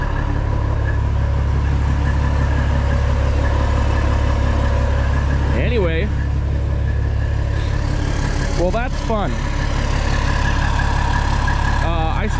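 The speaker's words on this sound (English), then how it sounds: "I started the truck to warm it up" A truck engine idles steadily through the whole stretch as it warms up, a continuous low rumble with someone talking briefly over it.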